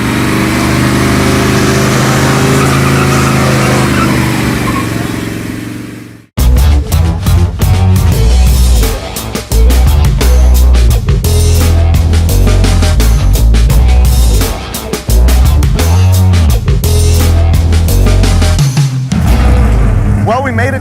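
A van's engine roars and revs hard during a burnout leaving a drag strip, following a louder stretch of steady mechanical noise, with repeated throttle bursts and choppy pulses throughout.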